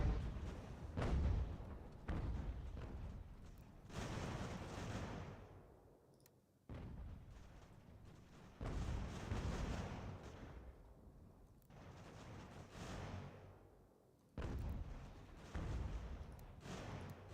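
Enemy artillery fires in Ultimate General: American Revolution, giving repeated muffled booms that roll out in rhythmic waves every few seconds, fairly distant and soft.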